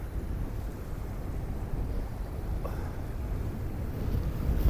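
Strong onshore wind buffeting the microphone on a beach at Mol Y Don, Anglesey, while fishing: a steady, loud low rumble with gusty roar and no clear talk.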